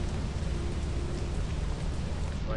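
Steady rain pours in the video game Lethal Company after a storm has passed, a dense continuous hiss filling the scene at constant loudness with no talk over it.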